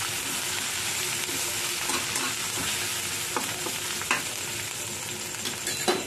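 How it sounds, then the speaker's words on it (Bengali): Grated ginger and green chili are stirred in a sizzling pan of oil, a steady loud frying hiss throughout with occasional scraping clicks of the spoon, no voices. "তারপরে আমি আদা গ্রেট করা 1 চামচ আদা দেবো আর কাঁচা লঙ্কা দিয়ে একটু নাড়াচাড়া করব।"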